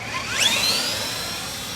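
An RC scaler truck's electric motor running in second gear, a loud, close, steady high whine that rises in pitch briefly and then holds level.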